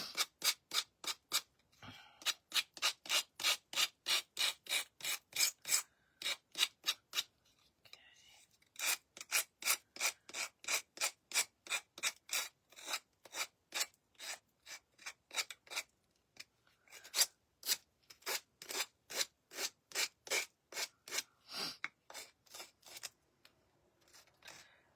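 Sanding a decoupaged wooden butterfly with a sander: rhythmic back-and-forth rasping strokes, close and steady, coming in quick repeated bursts separated by short pauses.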